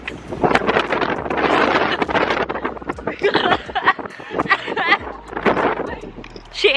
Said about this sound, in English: And it's super fucking windy.